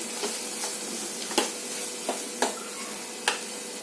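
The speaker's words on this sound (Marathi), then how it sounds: "आता हे मसाले छान आपण परतून घेऊया" Red chili powder and garam masala sautéing in a pan, with a steady soft sizzle and a few sharp scraping stir clicks from a spoon against the pan.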